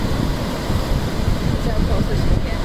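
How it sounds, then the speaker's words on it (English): Ocean surf on a beach rushes and breaks against rocks as a continuous, loud wash of noise, with wind buffeting the microphone throughout. "watch these waves."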